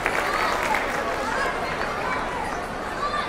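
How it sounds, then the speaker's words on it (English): Steady applause from a large audience at a 2024 celebration, a dense, even wash of clapping that holds from start to finish with crowd murmur mixed in. "Let's give a bigger round of applause to Ronak Shah"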